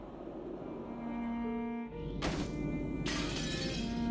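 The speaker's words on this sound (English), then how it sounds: "A teacup on the table smashed on the floor, making a violent sound." A teacup smashes on a floor in the Umineko visual novel, a sharp single shatter of breaking china that cuts over steady background music, followed by a second burst of scattering shards.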